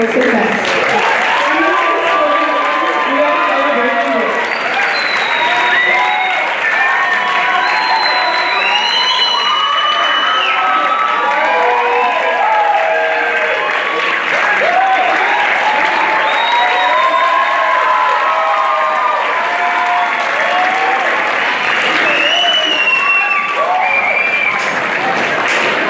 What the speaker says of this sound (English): please give one more round of applause to everyone who helped to make tonight's show a success